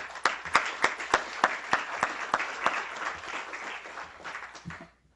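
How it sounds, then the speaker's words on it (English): A small audience of admitted students at a Johns Hopkins public health event claps, with a few distinct sharp claps over a softer spread that thins out and stops after about five seconds. "I want to give you a round of applause and give each other a round of applause on that"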